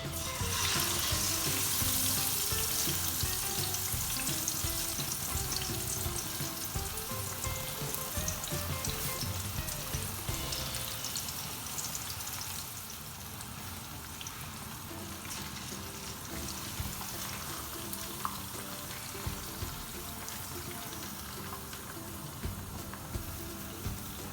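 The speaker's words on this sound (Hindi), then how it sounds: "अभी इसमें मैं चिकन के पीसेस डाल दूँगी और इसको फ्राई होने का टाइम देंगे।" Chicken pieces frying in a pan of hot oil for a Pakistani chicken mundi pulao give a steady, dense sizzle and crackle that stays loud and close throughout, easing a little partway through, with no talking.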